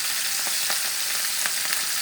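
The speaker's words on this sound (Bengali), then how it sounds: "এখানে মাছ ভাজা হচ্ছে।" Fish frying in oil gives a dense, loud, continuous sizzling hiss with small crackling bursts, heard close and alone.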